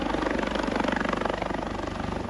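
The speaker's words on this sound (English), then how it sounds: "the rescue pilot is lowering the helicopter all the way to the surface of the water" A helicopter in the game Second Life hovers low over the water during a coast guard rescue demonstration, its rotor thudding in a loud, steady, rapid pulse close by.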